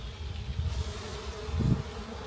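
A dense, steady hum of many honey bees buzzing close by at a hive, continuous and fairly loud, with brief swells as a few fly near.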